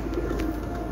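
A racing pigeon on a rooftop loft coos softly once or twice, close by, over a low steady background hum.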